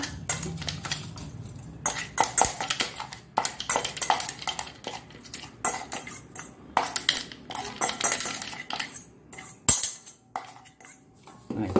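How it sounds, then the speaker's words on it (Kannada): Utensils clink and scrape against metal and dishware while jowar upma, finished with tamarind, coconut and jaggery, is spooned into a bowl, giving irregular close bursts of clatter with brief pauses and no talk. "ಈಗ ಇದನ್ನು ಒಂದು ಬೌಲಿಗೆ ಶಿಫ್ಟ್ ಮಾಡ್ಕೊಳ್ಳೋಣ."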